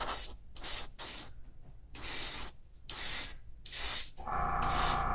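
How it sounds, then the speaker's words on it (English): Airbrush spraying candy metallic paint onto a plastic scale model kit, heard as a close, steady hiss in repeated bursts about a second long with short gaps between, ending in a more continuous spray. "Let's see if it's better to spray it low and thin, or if it's better to spray it"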